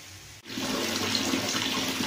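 Water rushes and splashes steadily as freshly pounded ingredients are rinsed, starting after a brief pause and continuing loud and close, with no speech.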